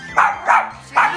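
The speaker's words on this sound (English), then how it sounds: "hush your little barking" Three sharp yaps from a small dog, evenly spaced about every 0.4 seconds, close and loud, heard alone with no talking over them.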